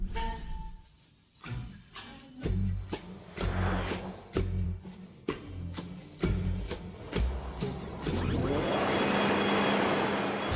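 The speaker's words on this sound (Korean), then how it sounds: "BYD 펑션 파워 5의 엔진에서 심한 소음이 들리기 시작합니다." Loud engine and drivetrain roar from a BYD plug-in hybrid SUV (Function Power 5) being driven hard on an ice rally course, with a rough noise coming from the right side of the engine; rhythmic pulsing bursts give way to a sustained, rising whine near the end.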